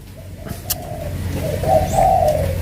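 A dove coos in low, soft, hollow notes, rising slightly in the middle, close by with a faint chirp above it.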